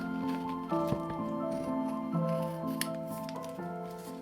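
Scissors snip through paper to cut out small leaves for scale model trees, a few crisp cuts heard close up over a steady background hum.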